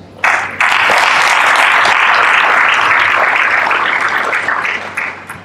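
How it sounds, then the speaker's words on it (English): Conference audience applauds the presenters of hundreds of congress papers: a sudden, loud, sustained round of clapping that swells immediately and holds steady before easing off at the end. "big applause to you all"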